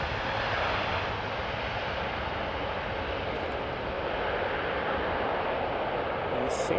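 Boeing 787 Dreamliner engines at Amsterdam Schiphol Airport: a broad, steady jet roar that holds level and loud throughout, like an aircraft on the runway nearby, with no clear talk.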